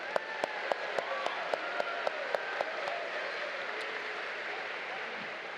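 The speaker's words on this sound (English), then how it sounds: "give them a round of applause" Faint, distant crowd applause for the graduating class of 2018 at a spring university commencement morning ceremony, a steady wash of clapping with sharper individual claps standing out in the first few seconds.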